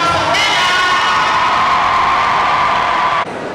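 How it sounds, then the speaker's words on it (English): Audience at an interactive session with Abike Dabiri-Erewa cheering and whooping loudly, a dense roar of crowd voices with some clapping, sustained for a few seconds before dropping off suddenly. "So a round of applause for Dr."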